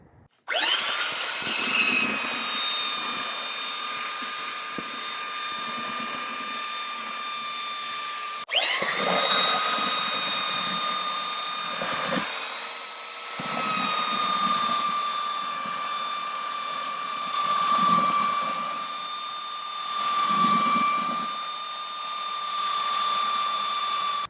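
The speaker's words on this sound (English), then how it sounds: "Next is sanding the corners to get them flush" Power sander working the corners of a homemade wooden bat box to bring them flush, a high whining motor in close bursts that stops and restarts, its pitch dipping under load as it bites the wood.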